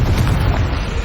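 A Confringo blasting spell goes off in Hogwarts Legacy, a single loud, rumbling explosion with a deep low boom that fills the short moment without fading.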